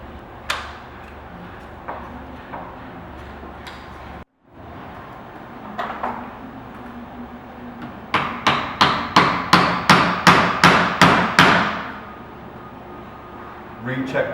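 A hammer with plastic and rubber faces raps a sliding door frame during installation: a few scattered knocks, then a quick run of about nine even, sharp taps close by, with soft background noise and some voice.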